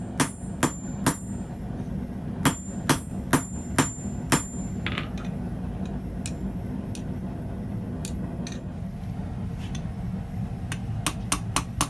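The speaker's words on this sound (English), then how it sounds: "For the final heat of this step, continuously rotate and hammer." Hot steel hammered on an anvil while forging a ball-end finial, the bar rotated between blows: sharp ringing metallic strikes in quick bursts, then sparser scattered taps over a steady low hum.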